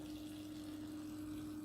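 Steady water runs through home brewing equipment's cooling line, a constant, even flow with a low mechanical hum beneath it, close and fairly quiet, with no voices.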